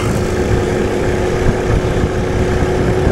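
A Yamaha motorcycle engine overtaking a rider on an Orion 50 moped: a loud, continuous engine drone mixed with road and wind rumble, with no break for the whole stretch.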